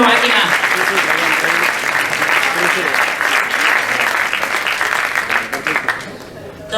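Loud, dense audience applause for a presenter at a film festival session, sustained and even for several seconds before tapering off near the end.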